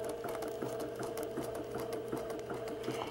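Sewing machine stitching appliqué lacework along a curved edge, a steady close mechanical hum with a fast even rhythmic whir of the needle running throughout, quiet and alone.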